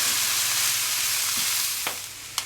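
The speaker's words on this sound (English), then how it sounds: "we need to add in that rice and the eggs and give it a good mix through" Rice and eggs stir-fried for nasi goreng, a steady close sizzle with broadband frying hiss throughout, broken near the end by a couple of sharp utensil scrapes and clinks, no voices.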